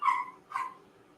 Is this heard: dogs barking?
yes